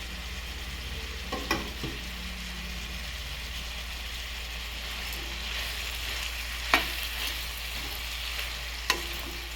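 Brinjal curry cooking in a pan: a soft continuous sizzle with a low steady hum beneath, broken by a few sharp clinks of a spoon stirring against the pan, quiet and close, no talking.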